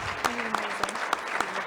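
A panel audience applauding politely, a moderate, even patter of hand claps at close range with a few sharper individual claps standing out.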